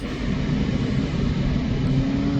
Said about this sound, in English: Sounds like they're starting up the generator